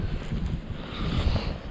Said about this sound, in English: My eyes are watering because of this wind.